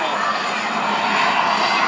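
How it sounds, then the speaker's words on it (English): An RV-8 propeller airplane performing aerobatics at the Wings Over Waukegan airshow gives a steady, loud engine drone that holds evenly throughout, with an announcer talking over it. "You can see him flying that airplane right on around across the top."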